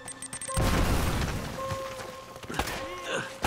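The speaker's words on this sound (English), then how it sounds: "Grenade explosion don't look bad" Grenade explosion in the video game Uncharted: Drake's Fortune, a loud booming blast with a rumbling tail, followed by further thuds and gunfire-like pops amid game sounds.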